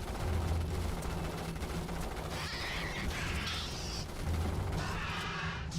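Battlefield gunfire in the Hell Let Loose game, dense and loud throughout with sharp cracks and layered shots over a heavy rumbling war ambience, along with a horse-like whinny.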